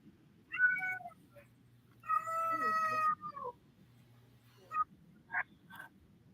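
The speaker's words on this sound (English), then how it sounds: "If only my cat would stop meowing," A house cat meows repeatedly indoors, several short, fairly faint calls spread out with pauses, one drawn-out meow in the middle, over a low steady hum.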